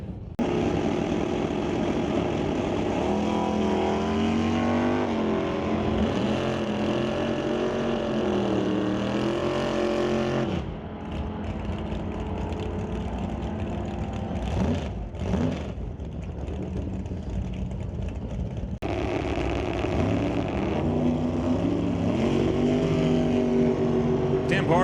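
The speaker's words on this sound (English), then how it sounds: "Jeremy Soares chasing down the roadster as they reach the quarter mile" Drag racing at Mission Raceway Park, a dragster and a roadster roaring down the quarter-mile track, loud sustained engine howls shifting in pitch as the cars pass and fade, with an announcer speaking over them.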